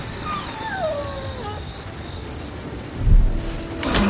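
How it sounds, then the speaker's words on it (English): A thunderstorm with rain falling steadily, a rumble of thunder rolling in near the end, and whistling wind-like tones early on, heard without speech. "The wind was tearing tiles from the rooftops, and thunder roared across the sky."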